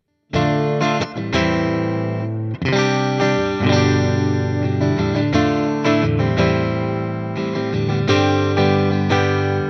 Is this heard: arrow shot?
no